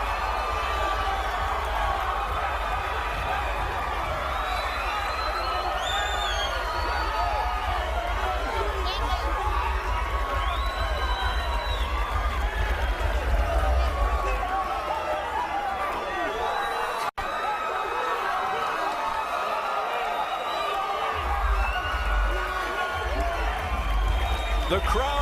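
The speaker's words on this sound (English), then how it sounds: "The crowd celebrates, the Rios corner celebrates" A boxing arena crowd roars and cheers continuously after a WBA lightweight title fight crowns a new champion, a dense distant din under a commentator's close voice.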